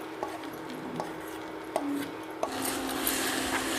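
Cooked toor dal seasoned with salt, chili and turmeric is stirred into fried drumstick leaves in a pan, with a few distinct scraping knocks of the spoon over a soft, continuous rubbing texture and no voices.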